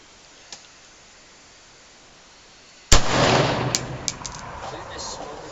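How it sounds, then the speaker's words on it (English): A gunshot cracks at a shooting range, breaking a stretch of near silence with one sharp, loud report, followed by lingering noise and a couple of smaller clicks. "What was the gun sound?"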